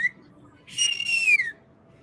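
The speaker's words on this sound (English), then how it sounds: "We can't let you go without that whistle, because all of Canada needs to hear that whistle" One loud, clear human whistle, a short rising chirp followed by a sustained high note that slides downward, close by in a quiet room with no talk.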